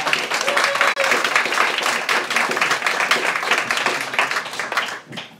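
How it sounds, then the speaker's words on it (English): Audience applause at a talk on plastic surgery and wealth management, dense close clapping that holds steady for several seconds and fades out at the end. "please give a big round of applause for Dr. Rich Castellano."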